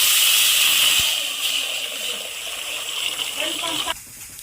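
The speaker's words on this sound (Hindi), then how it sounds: "पानी आड करना" Water goes into a hot frying pan of khichdi being cooked, setting off a loud, steady sizzling hiss that gradually settles and is then cut off short.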